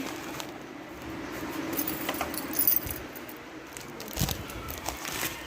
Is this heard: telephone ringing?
no